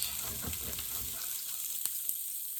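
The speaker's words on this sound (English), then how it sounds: "use that fat to cook my potatoes, and I add more lard and just fry them up like that" Potatoes fry in sausage fat with added lard, giving a faint, steady sizzle with scattered small crackles and pops, with no talk over it.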